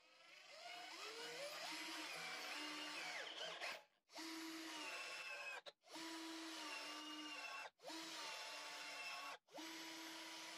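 FERM Action cordless drill boring into bamboo, a loud steady whine in several bursts with short pauses between, the motor pitch shifting as the bit works through the cane.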